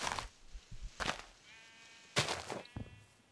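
Minecraft sheep bleat several times in short wavering calls, spaced irregularly with soft game clicks and footsteps between, fairly quiet and close.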